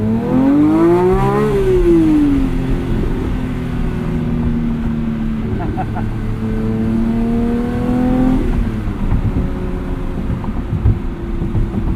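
Porsche 911 GT3 with a manual gearbox revs hard while driving, its engine note rising and falling through gear changes, loud and close throughout with steady road and wind noise underneath.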